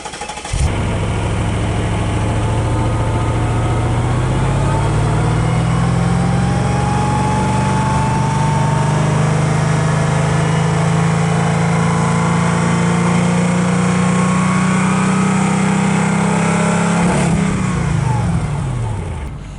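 Mercedes AMG supercar engine built from two old cars starts up and runs: a loud, close, steady rumble that rises a little in pitch, holds for a long stretch, then drops off abruptly near the end.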